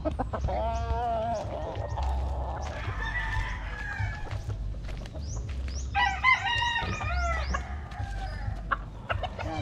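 Roosters and young stags at a backyard poultry farm crow in several overlapping, nearby calls, mixed with clucking and a low continuous rumble underneath.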